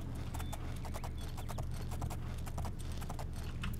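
Horse hooves clip-clop steadily in The Elder Scrolls IV: Oblivion, a brisk continuous run of sharp hoof strikes over a low droning game ambience, with no one talking.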